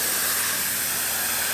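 A spray gun lays clear coat on a rebuilt Porsche 997 Turbo race car, a steady, close, loud hiss of atomized paint that runs unbroken with no voices.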